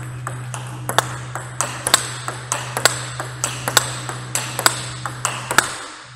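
A table tennis ball bouncing repeatedly off a Darker Speed 90 Hinoki blade, 9 mm thick, producing a steady run of sharp, loud pings about three per second over a constant low hum, with no talking.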